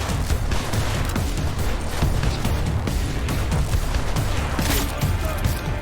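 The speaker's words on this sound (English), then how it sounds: "that was not me causing that explosion." Explosions, heavy gunfire and crashes from combat in Deus Ex: Mankind Divided form a loud, continuous barrage with repeated booming hits.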